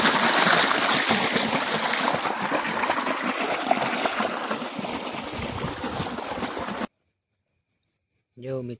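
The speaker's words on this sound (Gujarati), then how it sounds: "બતાવું તમને પાણી હાલતું કરી દીધું" Irrigation water gushes and trickles steadily into a farm field at night, a close, continuous flowing rush lasting several seconds before cutting off, followed by a brief voice.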